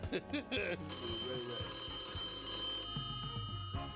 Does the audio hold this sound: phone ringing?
yes